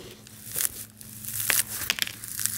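Dry, brittle crunching and crackling in irregular bursts, close by, as the dried-out potting medium of a dendrobium orchid is pressed and crushed.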